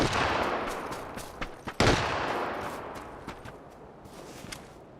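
Unsuppressed gunfire in PUBG cracks out in a few sharp shots, one loud close blast among fainter distant reports, each trailing into a fading echo with no talk over it.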